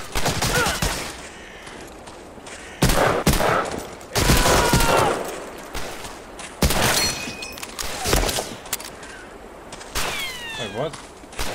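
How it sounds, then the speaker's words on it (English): Bursts of gunfire and explosions in the World War II shooter Medal of Honor: Allied Assault, loud volleys and ricochet whines recurring in clusters. "Wait, who's shooting me?"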